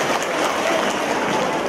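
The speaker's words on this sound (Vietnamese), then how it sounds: "Chúng ta cho một tràng pháo tay thưa anh chị em." A church congregation at a gathering led by a priest gives a round of applause, dense and steady clapping filling the hall for a short burst.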